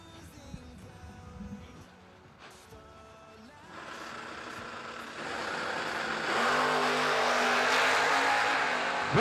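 A pickup truck drag racing at a bracket event, its engine building from a mid-pitched rumble into a loud, broad roar as it launches and accelerates down the strip.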